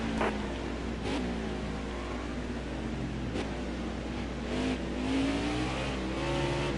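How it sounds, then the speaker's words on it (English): An Xfinity series race car at Mid-Ohio, its engine revving hard and steadily with rising and falling pitch as the tires spin. The sound is continuous and close, with no voices over it. "Oh, okay, well, spinning of the tires."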